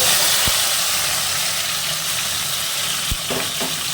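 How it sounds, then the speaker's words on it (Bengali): Steamed taro (kochu) frying lightly in oil in a pan, a steady close sizzle and hiss throughout, broken by two sharp knocks and a few faint clinks. "ভেজে নেবো তেলে হালকা করে"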